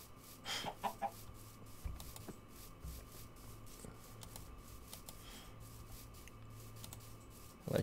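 A chicken in Minecraft clucks a few times early on, then falls mostly quiet over a steady low game background, with no voices.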